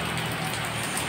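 Rainy-season rain in Medan falls steadily, a dense hiss of drops pattering on surfaces with no break across the short stretch.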